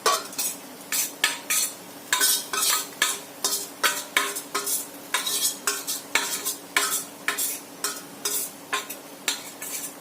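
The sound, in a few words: fish roe being stirred and fried in a pan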